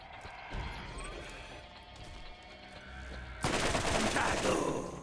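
Gunfire in the video game Borderlands: scattered shots and impacts over busy game ambience, building to a loud sustained burst of rapid fire and crashing near the end.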